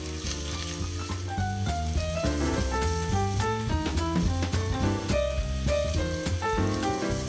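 Pieces of shrimp sizzle and fry in a pan, a steady hiss running under loud, prominent background music through the whole stretch.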